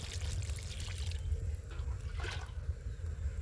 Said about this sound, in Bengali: টমেটোগুলো খুব সুন্দরভাবে গলে গেছে, আমি কিছুটা পরিমাণে এবার জল দিয়ে দেবো।